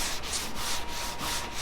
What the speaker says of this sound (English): I'm gonna finish sanding my plastic filler